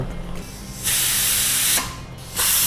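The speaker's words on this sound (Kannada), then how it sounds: "ವಿಸಿಲ್ ಬಂತು, ಇನ್ನು ಆಫ್ ಮಾಡಿ." A pressure cooker whistle vents steam in loud hissing bursts, rising and falling in repeated blasts close by while a pot of sweet pongal cooks.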